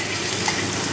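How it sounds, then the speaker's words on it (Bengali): Hot water poured in small amounts into a simmering amudi fish chochchori curry, giving a steady close rushing gush with a faint sizzle, with no voices. "অল্প করে গরম জল দিয়ে দিলাম।"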